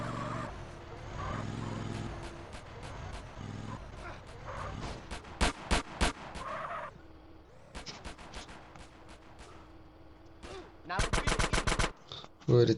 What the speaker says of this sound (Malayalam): അയ്യോ, വെടി വെച്ച് തുടങ്ങിയല്ലോ.